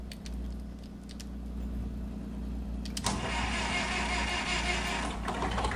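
A tractor engine in Farming Simulator 2013 gives a steady, low drone throughout, growing louder and rougher partway through as the motor revs up with a harsh mechanical rattle.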